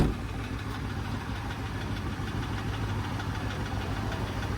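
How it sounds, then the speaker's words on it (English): A 1999 Chevy G3500 Express cargo van idles steadily with a faint, small rattle from the exhaust, a low, even engine rumble at moderate distance with no voices. "there's a tiny rattle, and that is from the exhaust"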